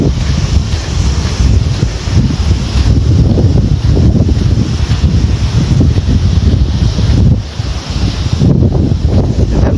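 Strong wind roars and buffets the microphone continuously, a dense low rumble with gusts rising and falling throughout, no voices.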